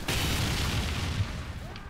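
A booming blast as a sentry gun is destroyed in Team Fortress 2 Mann vs Machine, a loud, broad explosion that fills nearly two seconds and then tails off slightly, heard amid dense game noise.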